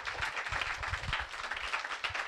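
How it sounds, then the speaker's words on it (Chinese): An audience at a tech panel discussion applauds the three panel speakers, a fairly quiet, even patter of many hands clapping for a couple of seconds. "掌声给三位讲者。"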